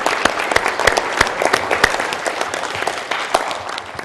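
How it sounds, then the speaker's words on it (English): A conference symposium audience claps steadily for a few seconds, dense clapping with sharp individual claps standing out, no talking over it. "give him a round of applause for his vision"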